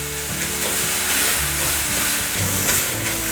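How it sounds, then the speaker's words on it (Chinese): Enoki mushrooms stir-fried in a wok give a loud, continuous sizzle and steamy hiss up close, with faint scraping turns of the spatula running under it. "金针菇炒软了，还要再继续的翻炒"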